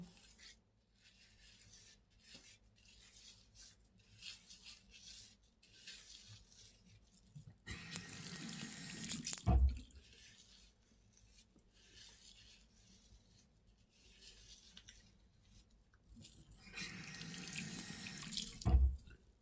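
Water running from a sink tap while a face is rinsed with a small sponge, heard in two louder splashing bursts separated by quieter trickling and dripping, close and alone without talk.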